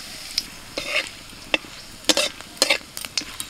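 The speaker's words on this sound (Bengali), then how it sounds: "ফোড়ন দিচ্ছি গোটা জিরে, তেজপাতা, গরম মশলা" Whole cumin, bay leaf and garam masala spitting in hot oil for tempering, with scattered sharp crackles and pops in short bursts close by, no talking.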